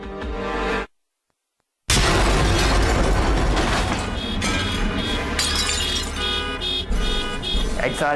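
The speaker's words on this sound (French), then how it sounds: "une explosion assourdissante secoue le parking" A dramatized bomb explosion in a parking lot at night: after a brief silence, a dense loud blast erupts with shattering glass and clinking debris, sustained and close.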